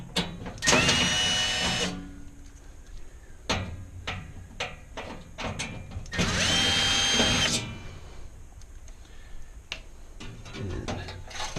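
A power drill backs four screws out of the big burner on a Fulgor Milano Sofia 36-inch gas range, heard as two loud whirring bursts with light clicks and taps of parts handled between them.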